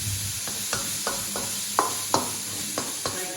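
Pancetta frying in a pan with a low sizzle, while a utensil stirs and scrapes it in a string of sharp clicks and knocks, close up and with no talk.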